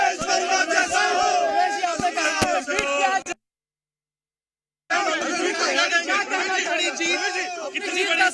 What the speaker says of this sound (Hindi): प्रवेश वर्मा की नारेबाजी लग रही है